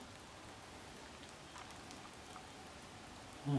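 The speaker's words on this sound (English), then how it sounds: "it's rained pretty much all night" Steady rain patters on surfaces in a soft, even hiss along the Bibbulmun Track in Australia, with a few brief drips standing out; no one speaks.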